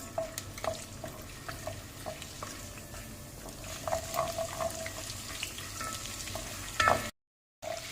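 Garlic and ginger cubes frying in barely warm oil in a karahi while being stirred, a steady soft sizzle with scattered spatula scrapes and taps, close and continuous, no talking.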